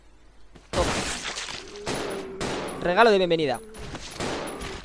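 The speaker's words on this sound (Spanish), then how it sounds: "Un disparo a tu linda cabeza." Gunfire in the video game Resident Evil 0 HD Remaster on PS3 during a fight with zombies: several sharp, loud shots in separate bursts, with a warbling cry between them and someone talking.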